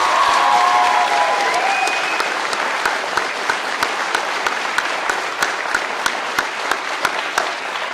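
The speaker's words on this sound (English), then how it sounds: "Can you give them a round of applause?" A graduation audience at Davison Alternative Education applauds the staff, sustained full-room clapping that begins thick with a few cheers and settles into a steady patter with sharp individual claps standing out.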